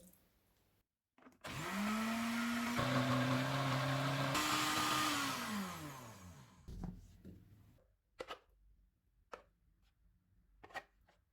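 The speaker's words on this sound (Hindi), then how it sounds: "अब इसमें पानी डालेंगे और स्मूथ होने तक ग्राइंड करेंगे।" A blender grinds chickpeas with water, whirring loudly for several seconds, its motor pitch rising then winding down, followed by a few scattered clinks and taps.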